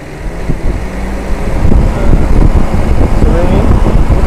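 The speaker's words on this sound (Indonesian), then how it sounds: "Tujuannya biar suara-suara yang ada di dalam mesin itu kedengeran." A 1991 Toyota Kijang Super long-body engine idles steadily with a low rumbling hum, fairly loud and close, with some wind-like noise over it.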